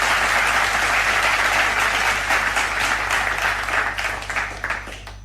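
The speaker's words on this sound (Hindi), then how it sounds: "Give a huge round of applause." Parents applaud a Grade 7 and 8 school bamboo drill performance, sustained dense clapping from a crowd that stays loud and then gradually thins and fades toward the end.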